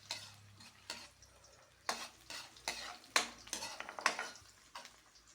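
Ginger and garlic sautéing in oil in a pan, a soft sizzle under repeated scraping and clinking strokes of a utensil stirring against the pan, close and fairly quiet.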